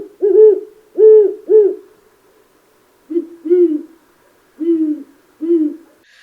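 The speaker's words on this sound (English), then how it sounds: "The normal call of the great horned owl is pretty much what you think" A great horned owl gives deep, resonant hoots in two rhythmic series of three and four notes, separated by a short pause, loud and close against a silent background.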